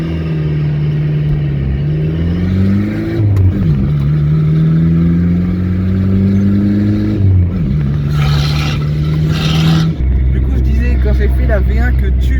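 A VW Golf 3 TD diesel engine running with its turbo removed, a loud close droning clatter whose pitch rises and falls with revving, while a person talks over it.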